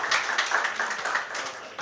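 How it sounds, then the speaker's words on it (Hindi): An audience claps warmly for a performer at an evening ghazal gathering, a dense, even patter of many hands sustained throughout with no pause. "एक बार जोरदार तालियां देवमणि पांडे सर के लिए"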